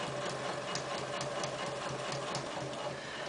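A sewing machine stitches a back tack, giving a rapid rhythmic clatter of needle strokes over a steady motor drone, close and continuous.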